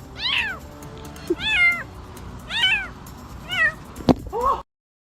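A cat meows five or six times in a row during a rescue, each call loud and close with rising and falling pitch, briefly broken by a thump, with no talk.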